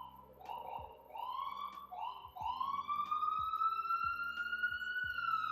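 A siren rises and wails steadily in the background, moderately loud, with faint rhythmic knocks underneath.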